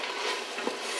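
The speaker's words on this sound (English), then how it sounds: "stir this up." A spoon stirs beef stroganoff in a pan, a close wet scraping over a steady sizzle, with one brief knock partway through.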